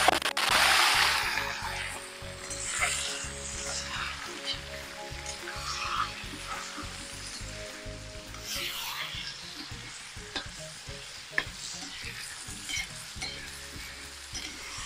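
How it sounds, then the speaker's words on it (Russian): Minced meat sizzles and crackles in hot oil in a cauldron over an open campfire as it is stirred and broken up, with a steady frying hiss, scraping and clinking of the utensil against the pot. "Обязательно помешиваем наш фарш, чтобы он не взялся большими комками."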